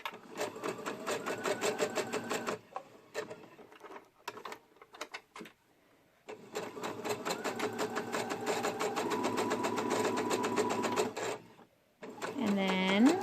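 A sewing machine stitches a sunshine dress in rapid mechanical bursts, stopping and starting with a pivot in the middle, with brief pauses between runs of sewing.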